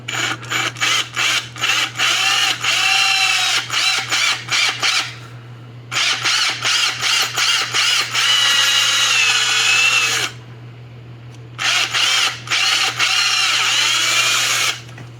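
A handheld power drill bores through material with an 11/64 bit, whirring in repeated bursts with short pauses between runs, loud and close over a steady low hum.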